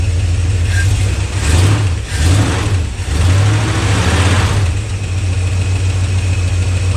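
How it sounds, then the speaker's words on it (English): A 1969 Dodge Dart engine idles on a replacement carburetor, with a blown header gasket. It gives a loud, close, continuous low rumble whose pulse wavers slightly throughout. "Okay, it's idling now."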